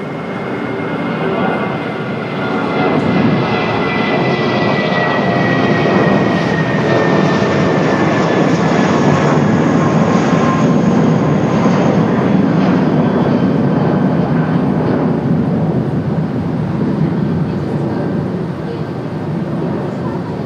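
Jet airliner taking off at Raleigh-Durham International Airport, a loud sustained roar with a slowly shifting whine that builds and holds for about twenty seconds, heard from a distance, with faint radio voices in the background.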